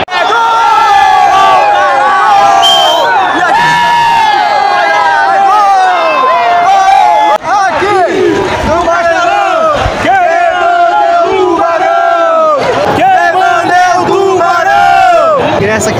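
Football crowd at a Sampaio Corrêa vs Vasco stadium match roars and chants in unison, a loud, sustained mass of voices with rising and falling shouted tones throughout.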